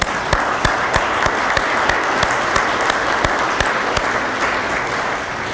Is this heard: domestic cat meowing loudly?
no